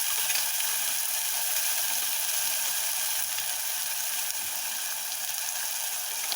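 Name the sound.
spiced yogurt paste frying in hot oil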